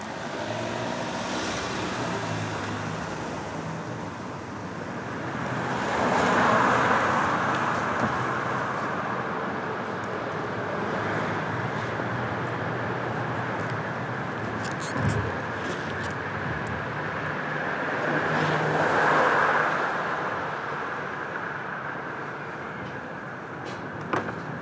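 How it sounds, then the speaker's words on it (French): Cars passing on a road at night, a steady traffic hum with two broader swells as vehicles go by and fade, continuous and moderately distant throughout. "bercé par le bruit des voitures"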